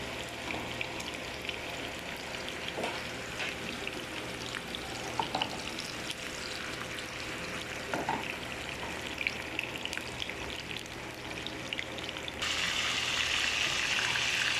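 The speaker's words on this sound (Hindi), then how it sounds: "कबाब मैं इसमें डालने लगी हूँ। मैंने इसकी आंच स्लो ही रखी है" Beef kebabs fry gently in kebabi masala over low heat, giving a steady soft sizzle with scattered crackles and a few stirring knocks, growing a little brighter and louder near the end.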